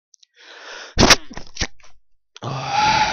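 One sharp sneeze bursts out close by, with soft breathy noises and small clicks before it and a hissy rush after.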